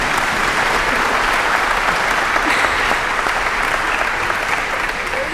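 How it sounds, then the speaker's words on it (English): Large audience gives loud, dense, sustained applause, a continuous roar of many hands clapping without a break. "Yes, clap for that."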